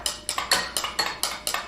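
A spoon stirring supplement powder into a drink, clinking rhythmically against the glass about seven times in quick, even strokes, close and alone.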